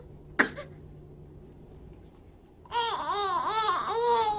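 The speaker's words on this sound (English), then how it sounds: "she does a fake cough with her mother." A baby gives one short, sharp deliberate fake cough, then after a quiet pause starts a loud, wavering babbling cry close by.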